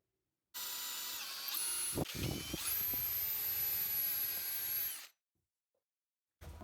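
A power drill boring holes into wooden pieces for the legs of a handmade wooden rocking horse, a steady whining run of about four and a half seconds with pitch shifts as the bit bites, close and loud, then silence.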